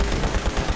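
Rapid gunfire in the video game Fallout 76, a dense burst of quick repeated shots filling a brief moment, loud and close.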